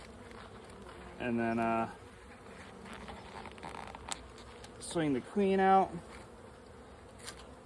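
Honeybees from a package colony buzz in two close bursts, each with clear harmonic whine, over a low steady hum of the hive; someone speaks calmly in between.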